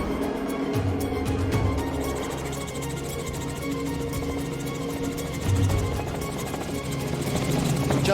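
Steady, loud engine drone with a low rotor throb throughout, like a helicopter in flight heard from close by, with no talk.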